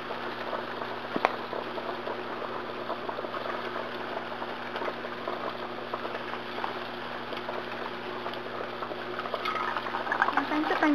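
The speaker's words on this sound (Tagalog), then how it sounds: "i-drop natin isa-isa yung ating na-coat na tofu cubes doon sa ating hot" Coated tofu cubes deep fry in hot oil with a steady, close sizzle and fine bubbling crackle that grows slightly louder toward the end. A voice speaks faintly underneath.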